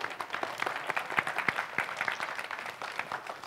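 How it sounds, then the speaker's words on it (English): An audience at a family science show claps for volunteers, a brisk crackle of many hands at moderate loudness, continuous throughout with individual claps popping out. "let's give our volunteers a round of applause"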